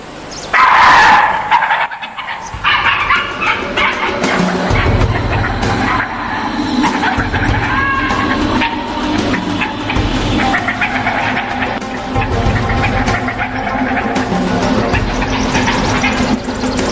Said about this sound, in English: The most aggressive attack by a tigress on wild dogs that I have ever seen.